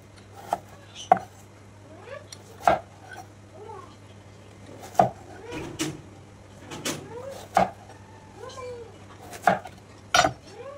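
A knife cuts an ash gourd into pieces on a board, making sharp, separate chopping knocks at an irregular, unhurried pace, close and moderately loud, with faint clinks between.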